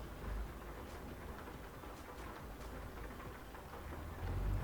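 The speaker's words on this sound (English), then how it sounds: "It's so dark in this now with the rain coming down." Steady rain hisses down in Euro Truck Simulator 2 as a truck drives through the dark, a constant broadband wash of falling water with a low rumble that swells near the end.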